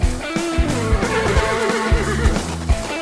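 A horse neighs and whinnies in the Forestry 2017 simulator game, a loud, close call over steady game engine rumble and rhythmic low mechanical pulses.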